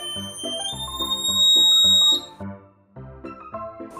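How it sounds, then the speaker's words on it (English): A small electronic buzzer wired to a variable resistor pulses in a rapid rhythm while its pitch shifts up and down as the resistance is turned, close and fairly loud. "If I turn it whilst using the buzzer,"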